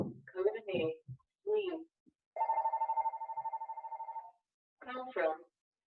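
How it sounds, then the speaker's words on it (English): A home telephone rings during a regional council meeting, giving one steady pulsing electronic trill of about two seconds between bursts of speech. "My home telephone, of course, is ringing."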